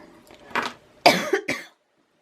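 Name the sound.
dry cough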